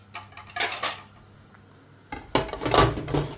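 Dishes and pots being put away in a home kitchen, with two bursts of clattering crockery and cutlery, a short one early and a longer, louder run near the end, separated by a quieter pause.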